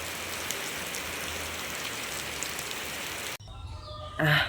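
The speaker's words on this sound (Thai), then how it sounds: "ไปถ่ายบรรยากาศฝนตก" Heavy rain falling in a steady, dense hiss that fills most of the stretch, then cuts off abruptly and gives way to quieter ambience with a brief sharper sound at the end.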